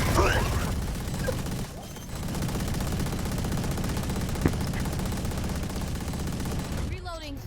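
Video game gunfire, a dense, continuous automatic-weapon clatter filling most of the clip at steady loudness, with a brief lull early on and a sharp single report near the middle.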